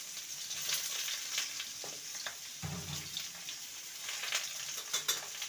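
Pointed gourd (potol) and thin, long potato slices fry together in a pan, giving a steady close sizzle with light stirring and scraping and one brief louder hiss midway; no one talks.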